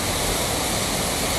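A river flows steadily and close by, a dense, even rush of water with no pauses and no voices.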